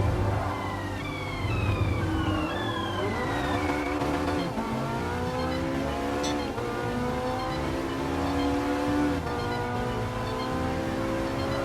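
McLaren 650S sports car engine revving in Gran Turismo Sport, rising and falling through gear changes with a tire squeal near the middle, steady and loud throughout without talk.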